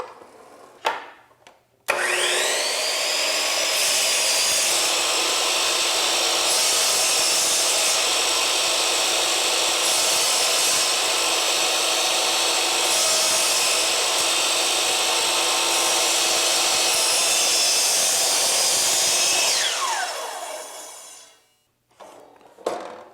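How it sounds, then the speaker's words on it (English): A miter saw blade spins up and slices through wood molding in one long, steady, loud whine that holds for about eighteen seconds, then winds down as the blade coasts to a stop, with brief clunks of handling at either end. "I waited for the saw blade to stop moving before I pulled it up out of the material"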